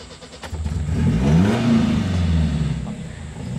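A classic Alfa Romeo GTV with a 122-horsepower aluminium-head engine revs loudly and rises in pitch as it pulls away, then settles into a steady drone after a short burst of acceleration.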